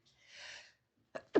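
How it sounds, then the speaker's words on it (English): A single close sneeze, starting with a soft, drawn-in breath and ending in two sharp bursts, in an otherwise quiet room. "I was trying to not sneeze, and then I thought it was going to go away."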